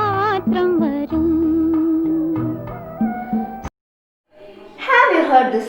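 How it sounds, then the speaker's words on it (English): A voice sings an old Malayalam film song alone, unaccompanied, with sustained melodic phrases, a brief silent pause, then another higher, wavering sung phrase. "This is an old Malayalam film song."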